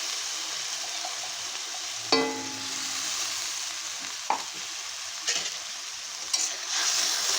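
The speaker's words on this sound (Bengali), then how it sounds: "মশলাটাকে ভালো করে কষিয়ে নেব" Chili, ginger and cumin paste stir-fried in a pan for a banana-flower dish with hilsa fish head, giving a steady close sizzle broken by a few sharp spatula scrapes and clacks.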